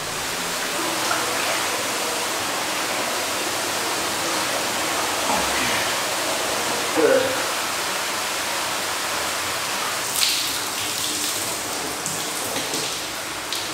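Shower water runs steadily indoors as a constant, fairly loud hiss, with a few faint knocks and clatters and no voices.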